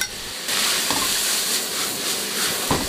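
Pork shreds tossed back into a wok with lettuce stem and wood ear strips, frying in a continuous loud sizzle with a couple of brief spatula knocks, close by with no talk.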